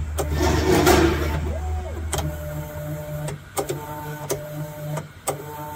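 A large 600x600 Voron Trident 3D printer purges before printing: stepper motors whine and sweep in pitch, with short motor buzzes, clicks and pauses, close and moderately loud.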